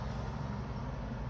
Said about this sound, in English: I've got a house full of kids next door playing outside and lots of traffic going past